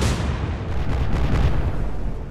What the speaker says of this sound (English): it took a full-on broadside from a destroyer